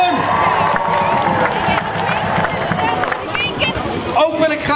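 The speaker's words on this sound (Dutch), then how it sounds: "Een applaus voor hen!" Crowd at an open-air youth carnival in Boxtel cheers and claps loudly throughout, with shouting, children's voices and general babble blending into a dense, continuous roar.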